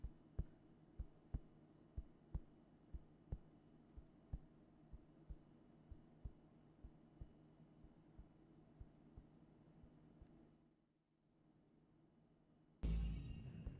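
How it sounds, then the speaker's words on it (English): A slow, steady heartbeat loops in the quiet horror game Fears to Fathom, soft thumps in an even rhythm over a low hum, fading into near silence before a sudden loud burst. "Is that my heartbeat?"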